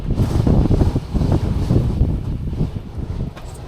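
Strong wind gusting outdoors on the Ningaloo coast, a steady low roaring buffet that swells and eases throughout, loud and close against the microphone with no voices.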